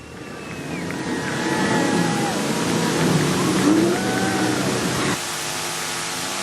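A junior sedan race car circles a speedway on its victory lap after a feature race final, its engine droning loudly and steadily with a rising and falling pitch before dropping off near the end.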